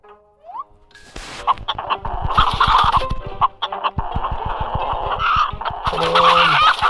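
Chickens cluck and squawk in a chicken fighting video game, with rapid, loud bursts of clucking and flapping-like thumps building steadily over several seconds alongside occasional tonal game effects.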